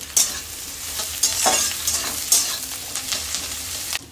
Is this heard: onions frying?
yes